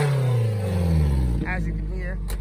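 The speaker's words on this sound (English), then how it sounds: "I do got a wicked exhaust leak" A Nissan Hardbody pickup truck with a wicked exhaust leak idles and revs roughly up close, its engine note sliding down before a brief catch, with a voice speaking over it.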